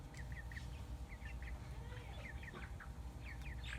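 A flock of Delaware heritage chickens clucks softly and repeatedly in short, scattered bursts over a steady low background hum.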